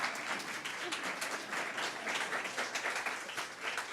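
A lecture audience breaks into steady applause at a talk on Sebastián's geometry, dense clapping holding at an even level for a few seconds with faint voices underneath.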